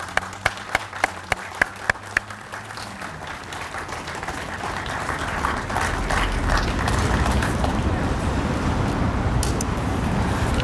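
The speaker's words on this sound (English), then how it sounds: "Please join me in recognizing today's runners, athletes, and volunteers with a round of applause." A few sharp isolated claps, then applause swelling into a broad sustained round from an outdoor crowd at a Special Olympics law enforcement torch run event.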